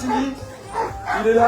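Sled dogs in a harnessed team at the start of a Grande Odyssée race stage, yipping and barking close by in short bursts while a commentator talks over them.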